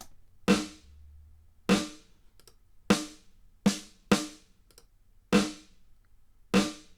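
Seven sharp percussive hits spaced about a second apart, each followed by a short, tight burst of close room ambience from a smallest-size reverb of 0.2 seconds with no pre-delay, dying away quickly.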